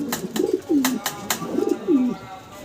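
An imported female Mundian pigeon coos up close, with two pairs of low, rolling coos separated by brief pauses, clear and prominent against a quiet background.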